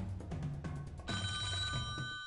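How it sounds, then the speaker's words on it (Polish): A telephone bell rings in steady repeated bursts on a Polish radio call-in quiz show, loud and close, with no talk over it. "Jest telefon, dzień dobry, witam serdecznie"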